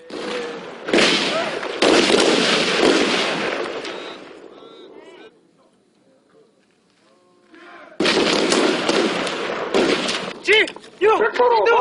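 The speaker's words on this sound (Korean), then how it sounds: "신입생들의 사격훈련을 뒤에서 지켜보고 있는 분대장 생도 강유미." Rifle gunfire during cadet shooting training at the Korean Military Academy in 2001, with loud, dense bursts of shots at the start and end and a quieter lull in between, voices faintly mixed in.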